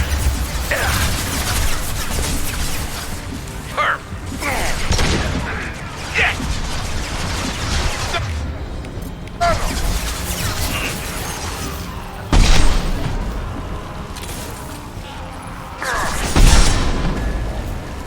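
Gunfire and explosions in a Mass Effect 2 firefight, with loud bursts and crashing booms at intervals over a steady mechanical combat bed, a heavy blast near the middle and another toward the end.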